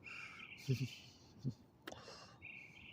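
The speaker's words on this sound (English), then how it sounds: "Now, the birds are so loud he may hear them driving in." Birds chirp and call in a steady high-pitched chorus, with a few low thumps and brief talk underneath.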